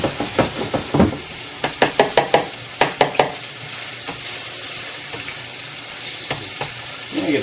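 Cattails fry in a pan with a steady sizzle, while a utensil stirring and scraping against the pan gives a quick run of sharp clacks up close before it settles to hissing.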